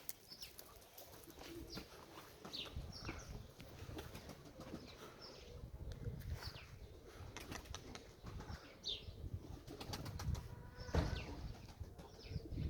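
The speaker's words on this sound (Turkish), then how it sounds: "Uçuşları bile değişti kuşların." Pigeons released as a flock flutter and flap their wings through a continuous busy rustle, with a few coos and chirps over it, at moderate distance and with no speech.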